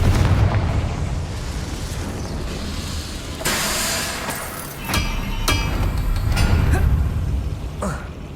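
Fiery Confringo spell blasts in Hogwarts Legacy, a series of loud booming bursts with sharp crackling pops spread across the stretch, layered over rumbling combat noise.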